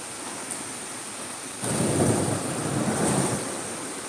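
A strong thunderstorm in New Jersey under a flash flood warning brings a steady roar of heavy rain, and partway through a deep rumble of thunder swells the wash louder and holds, with no one speaking.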